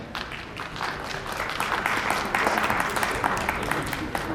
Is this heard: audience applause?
yes